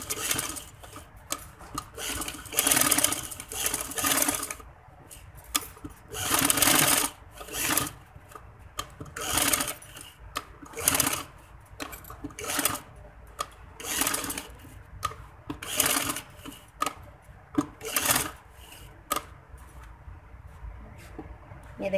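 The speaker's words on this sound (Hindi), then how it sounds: "इसी तरीके से अब हम दूसरे फूलों पर सिलाई लगाएंगे।" A sewing machine stitches flower details on a handkerchief-cut frock in repeated bursts of rapid, close mechanical whirring, separated by short pauses.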